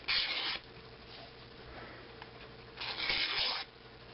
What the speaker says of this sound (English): Just scrape it off.